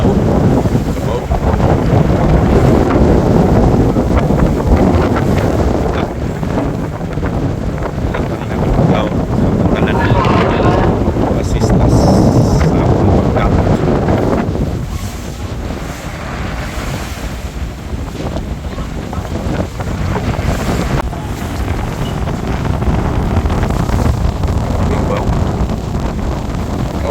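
Strong wind buffets the microphone continuously, roaring over surf and water noise, with gusts rising and easing.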